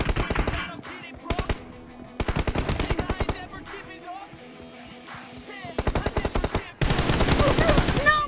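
Rapid automatic gunfire from a Free Fire TDM battle comes in repeated bursts of varying length with brief gaps between them, loud and close, with a few single taps mixed in.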